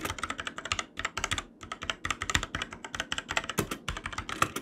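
Rapid typing on a cheap Amazon keyboard with stiff keys, dense clacking keystrokes in quick bursts with brief pauses, close and clear with no talking.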